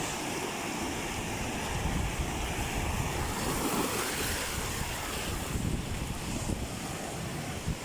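Ocean waves surging onto a rocky shore with rising water, a steady loud wash and rumble buffeted by wind noise, with no voices.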